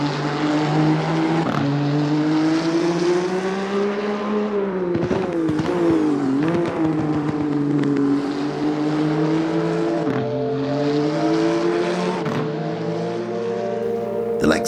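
Lexus race car engine heard from outside the car in Assetto Corsa Competizione, a loud sustained engine drone that rises and falls in pitch through gear changes, alone with no talk.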